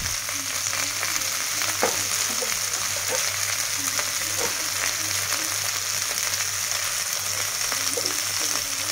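Onions fry in hot oil for taki fish bhorta, a dense, loud, continuous sizzle with occasional light stirring taps and scrapes close by; no voices.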